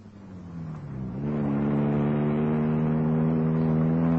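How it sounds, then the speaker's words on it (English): A car engine revs up and accelerates away at high speed as a radio drama sound effect, its steady loud drone climbing in pitch and holding on with no voices. "I got in my car and drove at a high speed."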